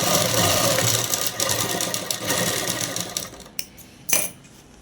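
Sewing machine running steadily while stitching half-inch cloth and half-inch elastic for a dress, a continuous close mechanical whir with small rhythmic variations, then easing off into a few short bursts near the end.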